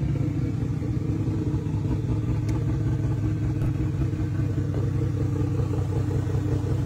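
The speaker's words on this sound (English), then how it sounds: "Yep, this car is running." A Nissan 240SX engine idles nearby, a loud, steady, low rumble with an even throb and light clatter that runs the whole way through.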